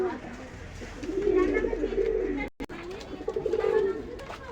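A single golden teddy-cross male pigeon coos in long, rolling low phrases, close and fairly loud, with a brief break midway; a voice is faintly present.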